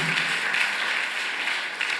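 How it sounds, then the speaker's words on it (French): A church congregation at a wedding blessing applauds, a dense, even wash of clapping that holds steady throughout. "Est-ce qu'on peut applaudir pour cette parole?"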